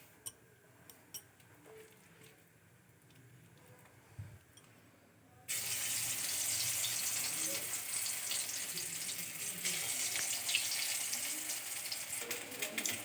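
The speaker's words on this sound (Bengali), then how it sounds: "কড়াইয়ে দেওয়া তেলটাও আমার গরম হয়ে গেছে। এখন আমি এক এক করে বড়াটা ছাড়বো।" Chola dal pakoda fritters dropped into hot oil in a kadai, a steady broadband sizzle that jumps suddenly louder midway and holds, with faint clinks before.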